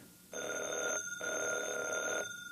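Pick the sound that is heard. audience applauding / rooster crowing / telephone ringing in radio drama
telephone ringing in radio drama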